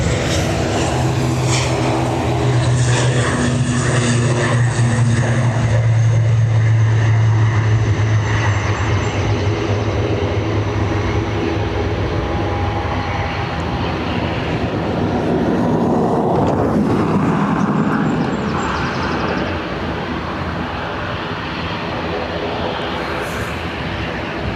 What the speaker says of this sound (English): ATR off to Aberdeen.